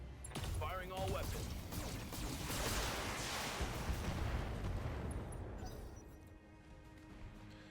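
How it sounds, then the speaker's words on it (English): Mech in Battletech unloading all its weapons at once, a dense, sustained barrage of booming, crashing gunfire and blasts that rumbles loudly for several seconds before tapering off. "Firing all weapons."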